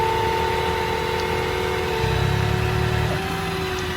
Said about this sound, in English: Here the VMAC kick on.